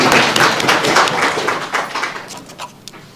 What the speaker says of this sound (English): please give a big round of applause for